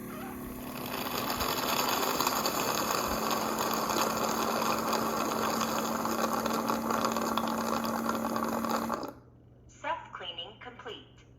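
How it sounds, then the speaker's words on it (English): A Yeedi mop station sucks up water with a loud, steady mechanical whir for about eight seconds, then cuts off abruptly, leaving quieter rustling and faint voices. "in a few seconds it should start sucking up the water"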